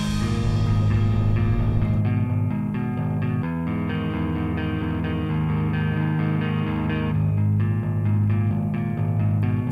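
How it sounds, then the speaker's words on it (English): A bass line played on a baritone guitar sits low inside a full, loud band mix, with a brief dip in the middle before the groove returns. No voices. "So that's on a regular guitar, baritone guitar."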